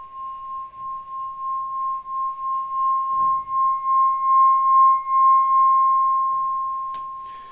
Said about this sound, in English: these small ones, they're actually harder to play. And they produce a certain resonance